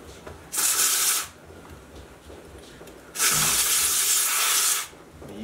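Two bursts of contact cleaner spray hiss into the tuner capacitor of a Marantz 2226 receiver, a short one and then a longer sustained one, close up with a quiet gap between.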